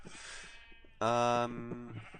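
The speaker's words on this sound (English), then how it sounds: "I've also been getting sheep going. They're so loud as always" Sheep bleating in the Minecraft video game, one loud, clear, drawn-out bleat in the middle after a fainter, breathier call, close and alone with no voices.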